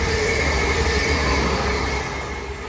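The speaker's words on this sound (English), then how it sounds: "There goes the Whitlock's End train from Worcester." A West Midlands Railway train to Whitlock's End from Worcester rumbles past at Blakedown with a steady roar of wheels on rail and a faint squeal, loud and close throughout.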